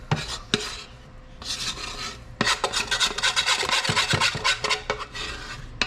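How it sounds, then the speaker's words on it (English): Biscuit dough being scraped from a mixing bowl: close, dry rasping strokes in short bursts, then a denser run of quick repeated scrapes, with no talking. "See, and scrape your bowl."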